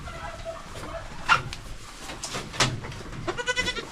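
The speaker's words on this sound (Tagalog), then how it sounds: "Yung kambing natin na blackhead" Blackhead goat on a farm bleating in a few short, fairly loud calls over a quiet outdoor background, with other farm animals faintly present.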